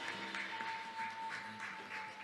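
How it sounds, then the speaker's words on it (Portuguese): A congregation claps during a church worship service, a steady dense patter of many hands with rhythmic accents, heard alongside sustained musical tones. "Aplauda o Senhor, aplauda o Senhor."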